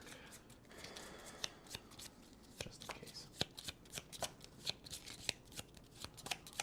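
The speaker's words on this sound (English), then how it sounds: "Go ahead and shuffle the deck." A deck of playing cards is riffled and shuffled by hand during a tabletop board game session, producing soft rapid flutters and sharp snapping clicks close to the mic, with a quiet voice speaking briefly over it.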